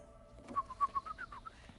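Short run of whistled bird calls in a game, about five quick bright chirps followed by a falling note, faint and fairly near over a quiet low hum.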